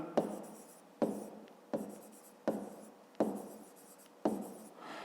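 Pen writing in a notebook during a fifth-grade maths exercise, a soft, close scratching broken into six short strokes at roughly regular intervals.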